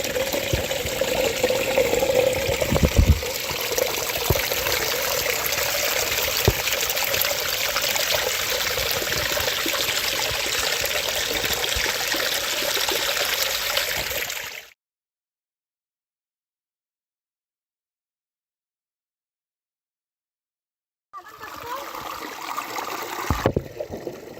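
Water from a perennial spring in a Konkan village, India, trickles and babbles steadily over stones, a continuous close gurgle that cuts to silence partway through and then returns.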